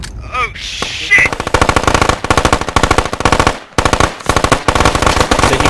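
Gunfire in the tactical shooter video game Squad, rapid bursts of automatic fire with brief gaps, loud and close, with a short voice at the start.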